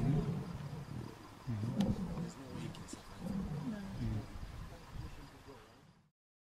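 A lion gives low, rumbling roars and grunts during a buffalo attack on a lion in the wild, moderately distant and repeated in bursts over outdoor ambience with faint insects, fading out at the end.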